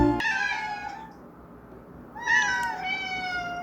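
Kittens meow in a clear run of high, harmonic cries, one short call at the start, then a brief lull before several overlapping meows rise again close by.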